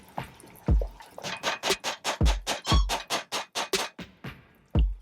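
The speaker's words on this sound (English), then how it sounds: "And then we're gonna pour it back in your pot" Thick birria sauce is poured back into a cooking pot, giving a run of close, wet glugs and splats in quick succession, with a couple of heavier plops near the start and end.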